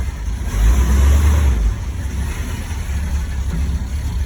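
A 1974 Scout SS2 clone with a rebuilt 727 transmission and 20 transfer case rumbles close by as it pulls forward. A deep engine swell gives way to a steady low idle-like drone.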